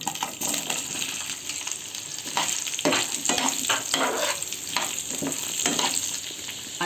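Raw mango pieces frying with cumin in a hot pan, a steady loud sizzle broken by the scrape and stir of a spoon, close up and with no voices.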